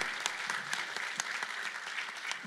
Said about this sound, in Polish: Brawa, drodzy Państwo.